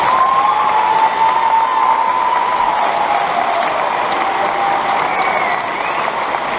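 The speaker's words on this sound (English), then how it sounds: "Let's give them a round of applause." Loud, sustained applause from an audience honouring a graduating high school class, dense clapping with some cheering and a faint whistle, continuing evenly throughout.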